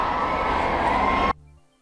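A large crowd outside a courthouse is pushed back by police, a dense, loud roar of many voices and shouting that cuts off abruptly partway through.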